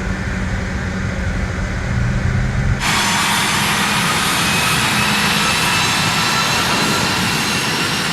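Regional jet engines whine and roar steadily while the airliner taxis in Microsoft Flight Simulator 2020, a loud continuous drone that turns brighter and broader partway through.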